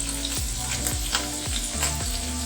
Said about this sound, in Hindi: और कैसे इनको अच्छे से फ्राई करेंगे पनीर को भी।